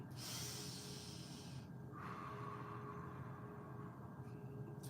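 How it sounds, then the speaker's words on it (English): Slow, deep breaths drawn in and out during a breathing exercise before a hula hoop fitness session, soft and close with a long hissing exhale, alone without talk. "5 deep breaths."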